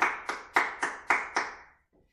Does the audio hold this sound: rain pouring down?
no